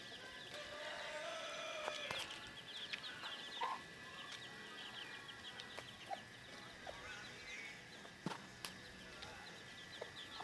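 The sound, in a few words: newly hatched chicks peeping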